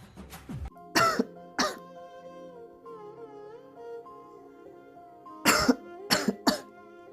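A person coughs and clears their throat in short bursts, a pair of hacks near the start and a cluster of three near the end, close and alone over a quiet background.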